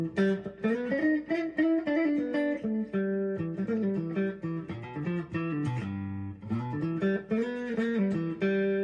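An electric Telecaster guitar with both pickups selected plays a run of plucked notes and chords, bright and articulate, with short rhythmic phrases and no talking.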